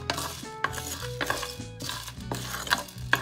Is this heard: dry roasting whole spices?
yes